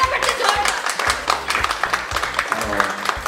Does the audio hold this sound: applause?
yes